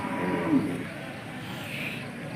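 Cattle at a Hallikar bullock pair fair give a loud, drawn-out moo early on, followed by a low background of livestock and crowd ambience with no clear speech.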